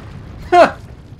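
A short explosion burst from the Resident Evil 4 video game, a single sharp blast lasting under half a second over quiet game background.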